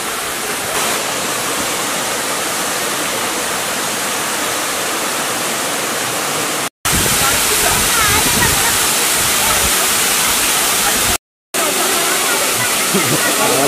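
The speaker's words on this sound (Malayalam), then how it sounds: "കാരക്കുണ്ട് എന്ന സ്ഥലത്താണ് ഈ വെള്ളച്ചാട്ടമുള്ളത്" A small waterfall at Karakkundu in Kannur roars in a steady, loud, close rush of falling water that continues without a break.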